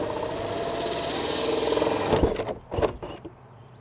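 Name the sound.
hole saw cutting through wall sheathing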